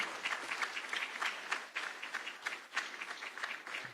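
An audience at an African investment conference applauds to welcome the Kenyan president, a dense run of many hands clapping with uneven, rippling bursts, fairly distant and without talk.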